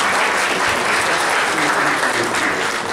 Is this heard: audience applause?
yes